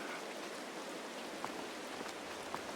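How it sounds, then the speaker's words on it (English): Rain in Farming Simulator 22 hisses as a steady, even wash by a lake, with a few faint drips standing out from the continuous patter. "It's starting to rain"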